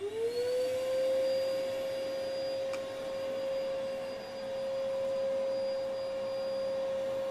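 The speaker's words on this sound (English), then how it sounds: "Right, on with the dust extractor." A workshop dust extractor spins up and runs with a loud, steady motor whine and airy rush heard close, holding constant with slight dips.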